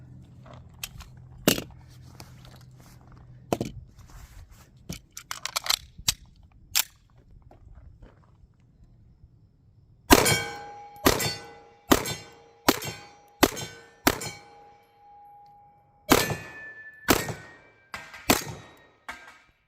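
Shots from a CZ75 B 9mm pistol ring off steel targets: a sparse handful of sharp cracks and clangs, a quiet pause, then a quick string of about nine loud metallic rings, some hanging in a sustained tone.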